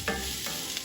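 Diced onion fries in hot oil in a pan with a steady sizzle, and a utensil scrapes and stirs it in a couple of short strokes, close and continuous for under a second.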